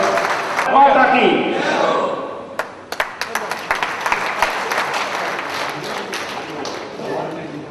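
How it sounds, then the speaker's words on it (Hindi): Audience applause welcoming speakers at a BJP interview event, opening with a burst of voices and talk before scattered claps build into steady, moderately loud clapping that continues to the end. "जोरदार तालियों से स्वागत"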